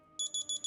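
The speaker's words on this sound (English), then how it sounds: "the timer has ended and it has started to ring to let you know that the time is up" A smartwatch timer alarm on a GT4 Pro cellular watch rings as four quick, high electronic beeps in steady rhythm, close and clear against a faint quiet background.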